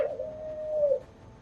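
Within The Walking Dead point-and-click video game, a single dove-like bird gives one smooth, sustained coo lasting about a second, clear against a quiet, low ambient hum.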